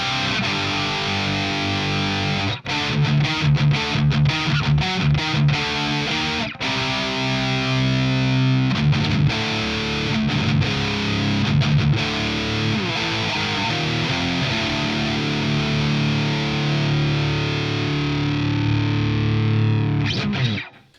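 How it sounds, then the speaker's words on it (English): Heavily distorted electric guitar played straight into a Marshall amp supplying all the gain, loud chugging rhythm chords with choppy palm-muted stops and sustained crunching notes, ringing out and cutting off at the end. "the main tone for this rig is just guitar into amp, with the amp doing all of the heavy lifting in terms of the gain"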